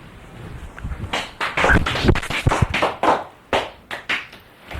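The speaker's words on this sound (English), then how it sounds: "Now stand up and clap your hands." A group at a guided meditation session clapping hands in uneven bursts, sharp claps close by with brief pauses between flurries.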